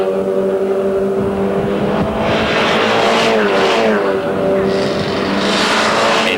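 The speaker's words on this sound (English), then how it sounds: "To the braking area at the end of the main straight, with Groenewald still shadowing Breers." Volkswagen Polo race cars howl past at the Aldo Scribante circuit in 1997 Classic Cup racing, engines droning loud and steady with rising and falling pitch as they brake at the end of the main straight.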